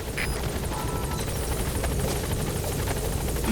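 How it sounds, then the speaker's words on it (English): A helicopter in Metal Gear Solid V: The Phantom Pain, its rotor chopping in a constant rapid thrum with an even engine whine, close and steady throughout, no speech. "Put the target on the chopper."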